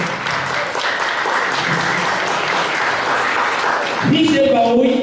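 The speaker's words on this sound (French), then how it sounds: "Applaudissements s'il vous plaît" A studio audience applauds guests on a talk show, loud continuous clapping for about four seconds before a voice starts speaking over the tail of it.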